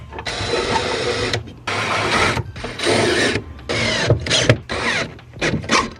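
A hand ratchet tightens bolts on a GSTP battery relocation kit in a series of loud, close bursts of rapid clicking, separated by short pauses that grow shorter toward the end.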